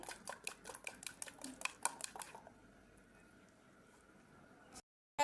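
A spoon stirs carrot fritter batter in a bowl, a quick run of rhythmic clinks and scrapes against the bowl for about two seconds, followed by a quiet pause.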